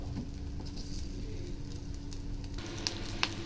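Chopped coconut pieces frying in a pan, a continuous close sizzle and crackle with a few sharp pops near the end.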